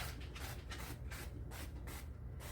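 Cooking spray hisses into a muffin pan in short repeated bursts, a close, breathy spray sound pulsing several times in quick succession.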